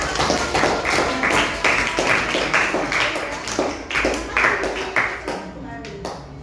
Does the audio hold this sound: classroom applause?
yes